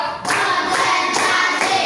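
A class of children claps together in a counted classroom rhythm, three or four crisp unison claps evenly spaced, close and loud with no voices.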